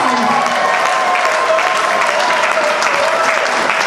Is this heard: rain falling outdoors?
no